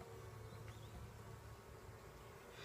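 Honey bees swarming around an open hive during an inspection, a dense close buzzing drone that carries on steadily throughout with no voices.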